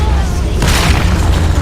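A turret collapses in League of Legends with a single broad, rumbling boom that swells partway through and stays loud over the game's steady background din.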